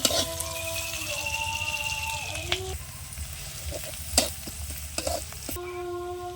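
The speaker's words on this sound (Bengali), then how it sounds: "তেলের মধ্যে পেঁয়াজ দিলাম শুকনো লঙ্কাগুলো ওর মধ্যে গুঁড়ো করে দিচ্ছি রসুন থেতো দিলাম" Onions frying in oil with crumbled dried chillies and crushed garlic, a continuous close sizzle broken by scraping stirs and a few sharp knocks of a spoon against the pan.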